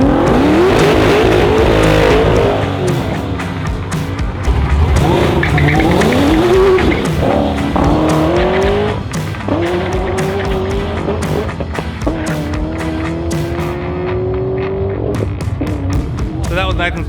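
Race car launching at Heathcote Park Raceway drag strip, engine roaring loud and tires spinning and squealing off the line, with rising revs and skids throughout and voices talking over it.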